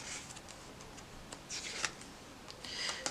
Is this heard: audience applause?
no